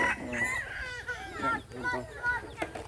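Chickens clucking and crowing close by, a string of harmonic calls over several seconds, partly mixed with people talking.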